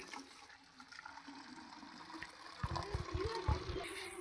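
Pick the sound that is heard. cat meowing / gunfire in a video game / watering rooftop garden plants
watering rooftop garden plants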